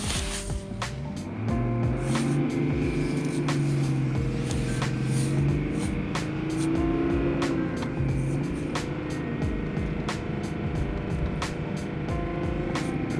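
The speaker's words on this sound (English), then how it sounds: "Kind of moving. And let go of the gas. Now it's jerking." A cold BMW E39 car engine hums low and uneven while driving, with repeated ticking clicks and surging tones as it lurches and jerks off the gas.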